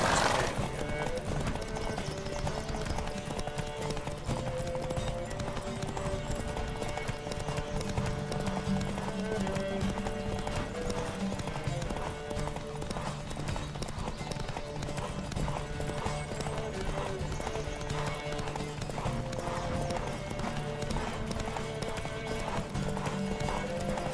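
Continuous clip-clop of galloping horse hooves with occasional whinnies in The Witcher 3: Wild Hunt, a dense, steady rhythm under a layer of background noise and music.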